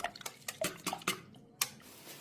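Kefir is stirred with an egg and a spoonful of flour in a bowl for Azerbaijani dovga, cooked in Kazakhstan: close, irregular clinks and scrapes of a spoon against the bowl, about eight sharp strikes with brief pauses.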